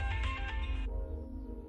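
A phone rings with a short electronic ringtone melody, moderately quiet, cutting off after about a second as a low room hum continues in a domestic scene.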